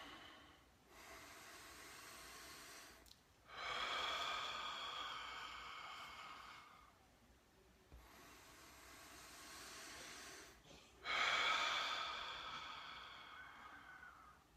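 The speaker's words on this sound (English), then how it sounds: "let's take a few deep breaths together" Slow, deep breaths in and out, each a soft airy rush lasting a few seconds with pauses between them, close and quiet with no talking.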